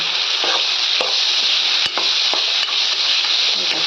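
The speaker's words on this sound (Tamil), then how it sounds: "பூண்டு போட்டு நல்லா வதக்கணும்" Garlic sautés in a pan for a fish gravy, giving a steady close sizzle with a few light stirring scrapes and clicks of a utensil against the pan, and no talking.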